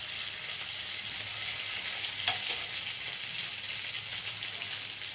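Garlic, cumin and ginger thecha with salt sizzles steadily in a hot pan of oil for Maharashtrian drumstick (shevga) curry, a continuous close frying hiss with a brief louder crackle midway.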